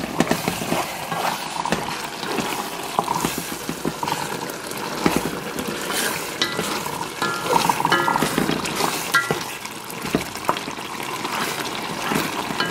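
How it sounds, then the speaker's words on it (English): Spinach stew being stirred in a pot, giving a continuous wet sloshing and bubbling texture, steady and fairly loud throughout with no talking. "And stir."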